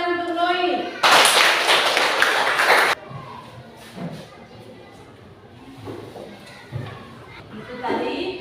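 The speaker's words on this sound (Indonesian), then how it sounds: "Tepuk tangan untuk Noi." A classroom of students applauds a classmate named Noi, a loud burst of clapping lasting about two seconds, followed by a teacher speaking with occasional light taps and knocks.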